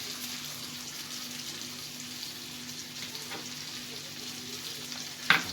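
Trout fillets in parsley butter fry with a soft, even hiss that stays faint and constant, ending in a brief sharp click.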